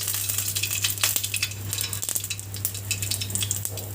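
Mustard seeds splutter in hot oil in a wok, giving a rapid irregular run of sharp pops and crackles over a low steady hum, close and fairly loud, with no talk.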